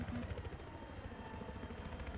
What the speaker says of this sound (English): I spotted an enemy chopper